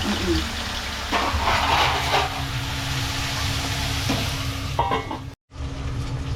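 Ginger garlic paste and tomatoes sauté in a pan for a Sunday fish-fry and mutton meal, a steady broadband sizzle with soft stirring scrapes, close and continuous, then a brief dropout near the end before the frying resumes.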